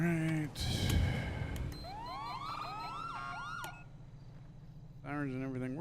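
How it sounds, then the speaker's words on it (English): Police sirens wail and yelp in rising and falling sweeps, loud and close, with a horn blast at the start and engine rumble underneath. "Sirens and everything works."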